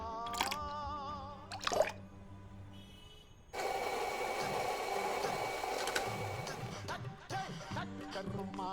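Water poured during a cooking scene in the video game Venba, a steady wash of liquid sound beginning partway through and continuing alongside tonal game music, with no voices.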